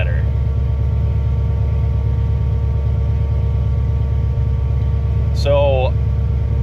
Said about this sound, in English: So we're now idling a little high.